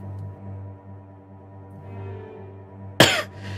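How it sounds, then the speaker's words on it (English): A single sharp cough bursts out near the end, loud and close, following a few seconds of quiet low room hum. "that was a cough"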